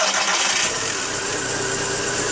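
An old 55-year-old Ursus C-325 tractor engine runs close by, starting in and settling into a loud, steady chugging drone with no talk.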